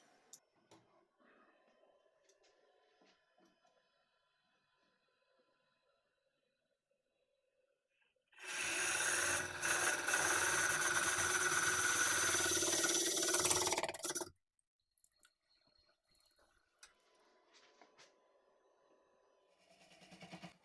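A Woodcut hollower cuts into a large walnut log spinning on a lathe, giving a loud, steady roar of cutting that lasts about six seconds between long stretches of near silence with faint clicks.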